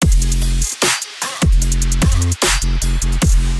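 A hybrid trap drop in the melodic dubstep style, produced in Ableton, hits loud and dense, with heavy pulsing bass chords broken by brief gaps and sharp drum hits.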